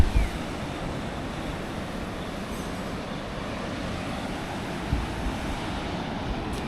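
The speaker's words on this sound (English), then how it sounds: "This is the Om Beach. Isn't it pretty?" Waves break at Om Beach in Gokarna, a steady broadband wash of surf mixed with wind noise, with a couple of soft thumps and no talking.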